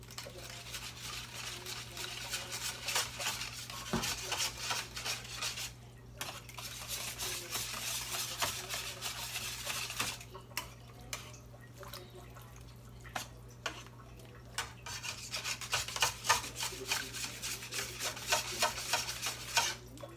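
Seasoning with Old Bay and browning sauce being stirred together for a beef pot roast, giving a close, steady scraping and swishing with faint drips and light clinks of a utensil against the pot throughout.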